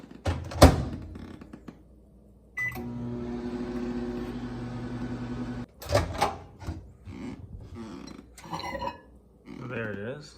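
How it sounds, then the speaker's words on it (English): A microwave oven heats instant boba in a cup, giving a steady, close electric hum for about three seconds. Thunks and clicks from the oven door come before and after, with voices nearby. "You just go ahead and put that in the cup and microwave it for a minute."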